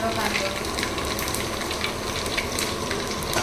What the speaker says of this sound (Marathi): ग्रेव्हीची फोडणी देतो आता